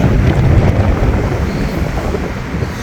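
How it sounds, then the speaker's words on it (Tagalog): Strong wind roars steadily into the microphone, a continuous low rumbling buffet with no voices, loud and close throughout. "malakas ang hangin"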